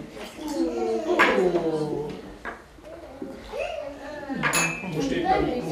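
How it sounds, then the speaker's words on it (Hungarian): Dishes being washed in a sink, with clinking of plates, cutlery and glass and the occasional clatter, heard close and moderately loud beneath ongoing conversation in Hungarian. "Most éppen mosogatsz?"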